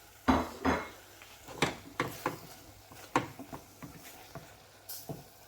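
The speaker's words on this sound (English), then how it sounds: "now we add the mushrooms. Again, they're done chunky." Chunky mushrooms tipped into a pan, a series of soft irregular knocks and scrapes of utensil against cookware, fairly close and quiet over low background hiss.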